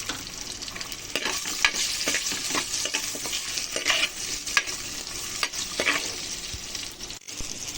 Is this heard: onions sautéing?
yes